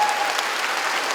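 An audience at a Korean lecture hall bursts into applause, a dense, steady patter of many hands clapping together at close range for the whole short stretch.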